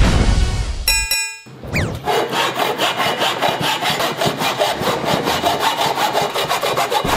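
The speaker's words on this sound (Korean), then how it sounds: "이제 이거부터 자르고 또 가는 작업을 시작하도록 하겠습니다" A ball of aluminium foil, polished until shiny and hardened like metal, is cut with a saw: after a brief clatter and a pause, steady rhythmic back-and-forth rasping strokes run loud and close throughout.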